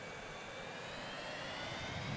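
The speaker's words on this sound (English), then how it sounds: "Look at that plane there." Steady broadband roar of an airplane flying past in the Transport Fever video game, a continuous jet-like rush that swells slightly toward the end, with no talking.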